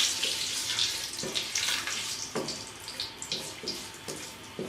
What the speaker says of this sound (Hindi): इनको डाल देंगे और फ्राई कर लेंगे